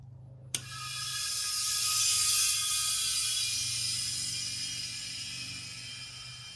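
A sharp click, then a Robinair refrigerant recovery machine starts up and runs with a steady hum and a bright hissing whine, close by.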